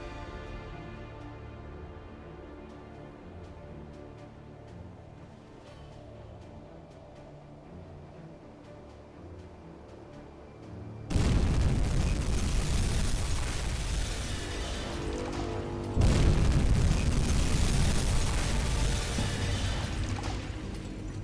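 Two torpedoes strike a C3 cargo ship in the submarine game UBOAT: after a long quiet ambient lull, a sudden massive explosion roars out, and a second loud blast hits about five seconds later, both sustained and rumbling.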